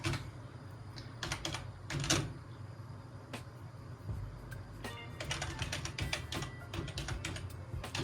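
Someone types on a computer keyboard with a faulty space bar in short bursts of clicks and taps, close by and fairly quiet, with pauses between bursts.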